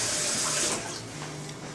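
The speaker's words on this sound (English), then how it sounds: "And rinse it off." Tap water runs steadily into a kitchen sink while food is rinsed after a squeeze of lemon, a close, continuous splashing hiss that dips slightly midway.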